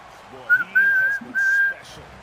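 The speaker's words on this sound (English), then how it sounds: "Blow the whistle." A referee's whistle sounds in the NBA 2K25 basketball video game as three shrill blasts, a short one followed by two longer ones. It is clear and close, with faint crowd noise underneath.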